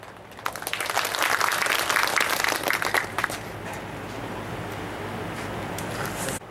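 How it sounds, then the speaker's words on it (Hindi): An audience at a Youth Congress cricket tournament event in Dungarpur claps loudly, a dense wash of applause swelling after half a second and holding steady for several seconds before thinning slightly, heard from within the crowd. "आप लोगों को ताली बजाना है जोर से"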